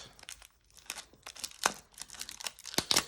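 Plastic packaging crinkles and tears in a rapid, irregular series of close, fairly quiet rustles while a package of silver bullion from Apmex is opened by hand, with no one speaking.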